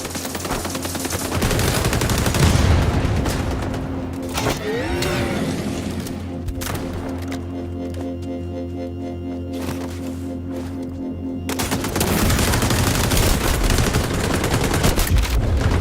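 Heavy video game gunfire rattles in dense automatic bursts, loud and close, dropping to a quieter stretch with scattered shots before erupting again near the end.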